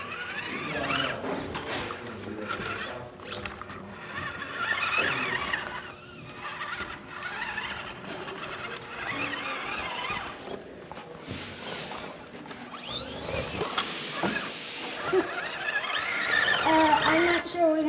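A small FCX18 K10 RC rock crawler with an Endura motor crawling over rocks, giving a scrabbly whine, clicks and gravel scrapes, with people talking over it.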